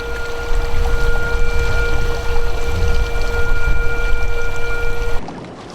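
Loud, steady broadband rush of river water churning near a dam, continuous for about five seconds with a faint steady whine above it, then dropping off sharply to quiet near the end.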